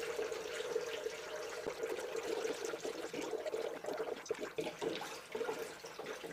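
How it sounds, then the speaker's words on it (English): Liquid pours steadily from a jug into a high-flow electric water pump in a continuous gurgling trickle that swells and dips slightly, close and fairly quiet, with no talking. "next jug, we're going to pour as much as we can in here"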